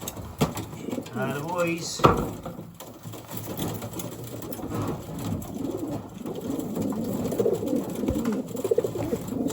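Racing pigeons, a group of seventeen cocks, coo and rustle together in a basket. The sound is a steady, close, murmuring chorus that carries on throughout, while a voice talks briefly near the start.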